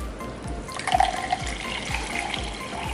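Soda liquid being poured into a tall glass for a homemade Kerala-style full jar soda, a steady close splashing trickle that brightens as the glass fills, with no talking.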